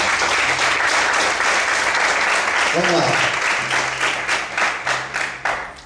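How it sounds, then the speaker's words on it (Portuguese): A church congregation applauds loudly and continuously, a dense wash of clapping that fades slightly toward the end, with a voice speaking briefly over it. "Vamos aplaudir o Senhor nessa noite."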